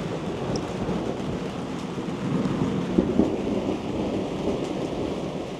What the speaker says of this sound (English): the thunder will be next